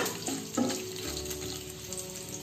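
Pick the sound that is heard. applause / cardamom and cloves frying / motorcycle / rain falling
cardamom and cloves frying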